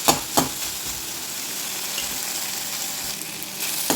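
Peas and carrots sauté in a hot pan, giving a steady close sizzle with a few sharp stirring clicks at the start and end, and no voices.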